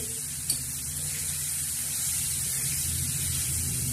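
Onion with chili powder sautéing on a griddle for bitter gourd chutney, a steady close hiss of frying with a low hum beneath and one small knock near the start.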